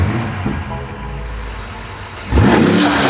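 A BMW F90 M5 engine with aftermarket intakes idles with a low rumble, then fires up and revs sharply near the end, loud and close.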